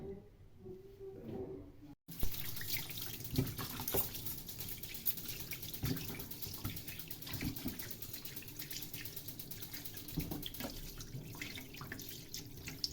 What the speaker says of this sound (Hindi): तो अब इसको धो के अच्छी तरह खुश्क करेंगे